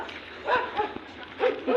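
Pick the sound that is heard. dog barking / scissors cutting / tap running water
dog barking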